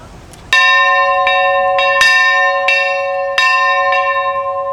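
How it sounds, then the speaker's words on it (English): A school bell rung at the 2009 closing ceremony of the CHS Nacogdoches Street campus: loud, close, metallic strikes repeat in an uneven rhythm, each leaving a long, bright ringing tone that overlaps the next. "we're going to ring this bell 3 times"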